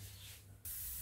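Aerosol spray of red paint onto a Triumph Bonneville T120 motorcycle fuel tank, a soft hiss that abruptly becomes a loud, steady close spray burst.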